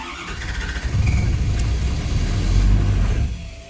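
A red Ford F250 with a 6.7 Powerstroke diesel engine that had seemed locked up cranks with a squeal and catches, rising into a loud, close, rumbling idle before easing off.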